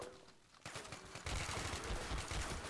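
Gunfire in Garry's Mod, bursts of rapid shots that start faint and swell into a dense, loud fusillade over a few seconds.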